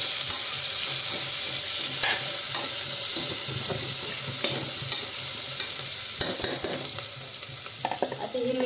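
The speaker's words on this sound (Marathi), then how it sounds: "आता आपण ह्याच्यामध्ये टाकणार आहोत कांदा। त्याला मस्त 2 मिनिटं परतून घ्यायचं।" Onions sautéing in a pan for masale bhat, a steady close sizzle with occasional stirring scrapes, running continuously with no talk.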